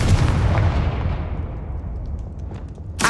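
A Confringo fire spell in the video game Hogwarts Legacy bursts with a loud, close boom that rumbles and fades over about two seconds, then a second sharp blast begins at the end.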